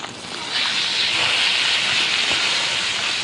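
A steak cooking in a hot pan gives off a loud, steady hissing sizzle that swells up after a brief quieter start and holds evenly, with no talk over it.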